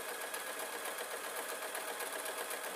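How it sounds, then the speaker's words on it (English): A sewing machine runs a long continuous seam on fabric folded right side to right side, a fast, even, close mechanical whirring with rapid needle ticks and no pause. "now I am sewing a long line down"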